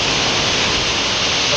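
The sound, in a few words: Vasundhara waterfall near Bhandardara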